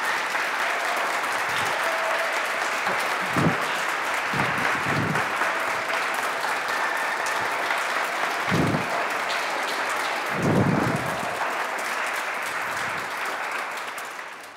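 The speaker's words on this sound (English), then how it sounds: "You can clap." A church congregation applauds after an ordination service in a sanctuary. Full, sustained clapping with a few louder bursts continues for about fourteen seconds before tapering off.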